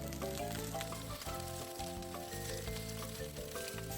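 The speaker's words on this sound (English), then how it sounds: "Add sesame oil and stir fry the Komatsuna and Shimeji mushrooms." Komatsuna and shimeji mushrooms stir-frying in sesame oil make a steady, dense sizzle with light stirring underneath, quiet overall and with no talking.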